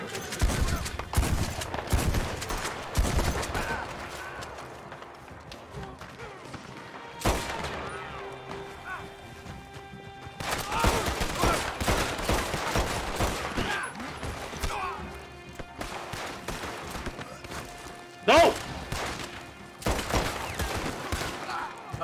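Gunfire in the Western game Red Dead Redemption 2: loud volleys and rapid bursts of shots come in clusters across the clip, with quieter gaps between them and brief shouting voices now and then.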